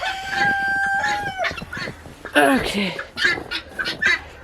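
Domestic fowl call near a farmyard on a snowy Michigan day after a snowstorm, with a sustained tonal cry followed by rapid, harsh clucking calls; a person speaks briefly.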